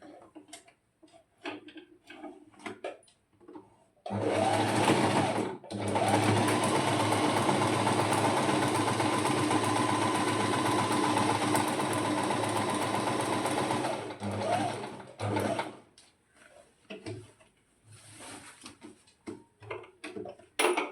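A sewing machine runs a steady, loud whirring stitch for about ten seconds while sewing a fall onto a saree, with short start-stop bursts of stitching before and after; no one speaks.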